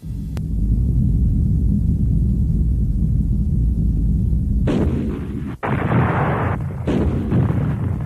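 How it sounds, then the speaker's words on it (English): Meteorite storm sound effect from a Star Trek parody: a continuous loud low rumble with crackling bursts, swelling into a brighter roaring blast near the end, interrupted by a brief dropout, with no talking. "Meteorite storm."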